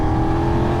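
A BMW F900 R motorcycle engine pulls hard in a short burst of acceleration on the road, a loud steady mechanical drone heard from the rider's position, no talking.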